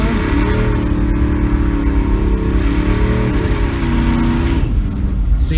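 An automatic C5 Corvette at an eighth-mile dragstrip holds a loud, steady engine drone with rising and falling rev tones, close by and sustained throughout.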